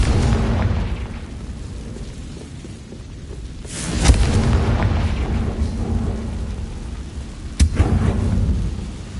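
Confringo blasting spells explode in the Hogwarts Legacy video game: a deep rumbling boom swells near the middle and a sharper blast cracks later, over a low, continuous roar.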